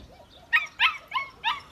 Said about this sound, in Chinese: 后边是小狗，走回去。